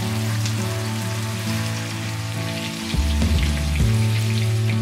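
Beef hits a hot pan already sautéing garlic and onion for a Filipino-style beef curry, giving a steady, close sizzle that swells louder and crackles harder as the meat goes in, with no voices.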